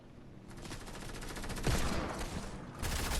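Rapid bursts of gunfire in the Fortnite video game, sharp repeated shots clustering into a dense fusillade that swells louder midway and again near the end, close and loud with no talk over it.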